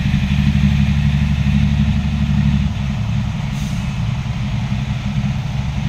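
An empty dump truck drives off after tipping its load of soil at a dumping site beside a pond in a banana grove. Its loud, steady engine drones close by and eases slightly partway through.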